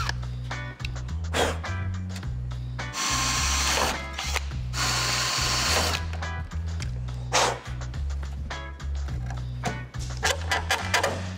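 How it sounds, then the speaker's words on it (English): A power drill whirs in repeated bursts, starting and stopping as it bites into material, drilling holes for rivet nuts during a carbon fiber installation on a Camaro road course car, with scraping and clatter between runs, close and fairly loud. "I'll go ahead and drill to the final size for the rivet nuts"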